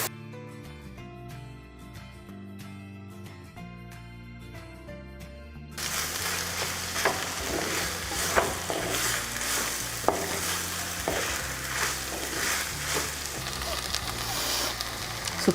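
Miracle leaves frying in a pan with ghee, a loud continuous sizzle with stirring scrapes and occasional utensil knocks, starting after a few seconds of quiet music.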